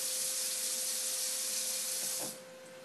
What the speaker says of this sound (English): add about a cup of water,